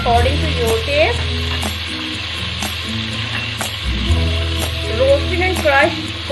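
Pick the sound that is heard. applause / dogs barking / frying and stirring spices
frying and stirring spices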